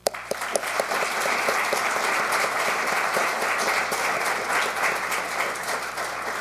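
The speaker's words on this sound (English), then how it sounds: "Please join me in applauding their accomplishment." An audience at a detention center graduation ceremony applauds the graduating class, a steady wash of many hands clapping that carries on for several seconds without talk.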